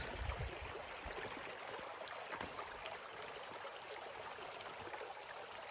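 A creek flows past its bank in a valley, a faint, steady rush of running water heard at a distance, with no one speaking.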